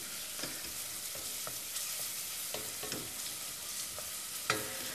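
Bacon frying in a pan as the base for potato and baby marrow soup makes a constant soft sizzle, broken by a few sharp scrapes and knocks of stirring.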